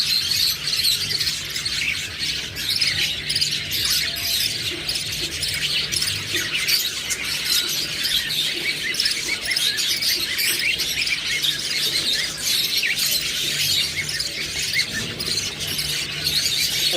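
A pair of lutino red-eye lovebirds keeps up constant shrill chirping and sharp squawks close by, a dense, busy chatter with other caged birds faintly audible around them.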